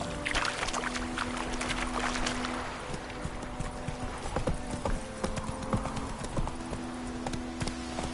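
Horse hooves clip-clop steadily in a video game, a brisk close rhythm of hoofbeats with creaking tack and a low tonal hum beneath throughout.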